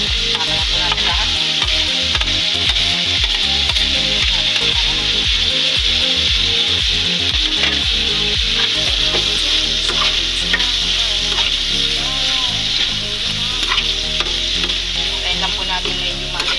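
Tomatoes sauté in a pan for a mung bean dish with biyas fish, with a loud, steady sizzle and frequent scraping stirs running throughout.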